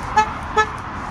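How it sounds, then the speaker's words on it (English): Two bright two-tone horn toots from a truck playing a jingle, sounding close and loud over a steady background hum, with no talking. "The truck just sang Jingle Bells."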